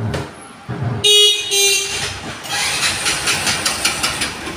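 Royal Plus motorcycle with 13,000 km on it, engine catching after a brief electric self-start crank and then running with a steady, slightly uneven throb close by, with no talk over it.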